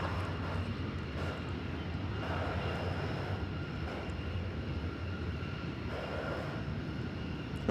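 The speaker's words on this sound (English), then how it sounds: "It's American Flight 102, a 787-8 Dreamliner." An American Airlines Boeing 787-8 Dreamliner arriving from Honolulu makes a continuous, fairly loud engine roar that stays steady throughout, with no voices.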